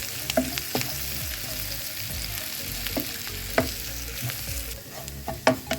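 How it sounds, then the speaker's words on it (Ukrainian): Steady sizzling as flour is stirred into a frying roux in a pan, a utensil stirring and scraping, with occasional sharper clinks against the pan. "обсмажили і додаємо сюди борошно, одну столову ложку. І одразу швиденько перемішуємо."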